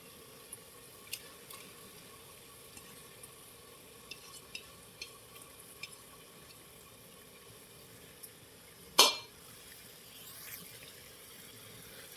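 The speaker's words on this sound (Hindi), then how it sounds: "शामिल करके दाल को इसके साथ हमने फ्राई कर लेना है।" Soaked dal mash frying in a pan for Dhaba-style daal: a faint, steady sizzle with scattered clicks and one sharp scrape of stirring partway through.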